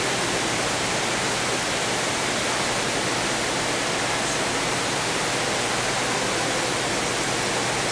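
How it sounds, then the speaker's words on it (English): An outdoor fountain rushes at night beside a hotel, a loud, steady broadband wash of falling water with no voices. "Sound of the water."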